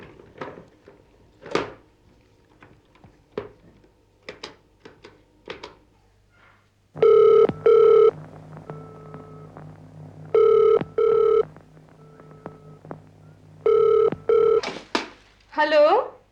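A telephone is dialed with a series of short taps, then rings in repeated loud double bursts separated by pauses, close and clear, with a few clicks and handling knocks before the ringing starts.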